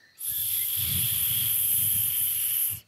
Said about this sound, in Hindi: दूसरे दिन चिड़िया नदी पर पानी पी रही थी कि वहाँ नागू सांप आ जाता है